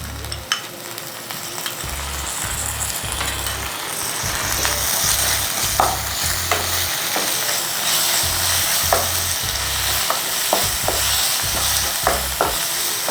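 Ginger garlic paste fries in a pan during a palak chicken recipe, giving a steady sizzle. Repeated sharp scraping clicks of stirring run over it, with low music in the background.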